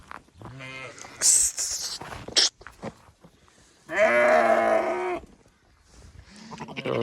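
Newborn lambs bleat in a few loud, wavering calls outdoors in freezing, icy weather, one long cry standing out, with voices talking nearby in between.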